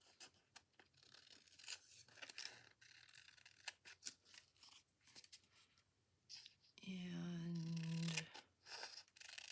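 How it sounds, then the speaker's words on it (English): A corner chomper punching the corners of index cards, heard as a few quick crisp snips and clicks between rustling paper handling, with a person talking softly nearby. "then chomp the corners at a 1/2 inch"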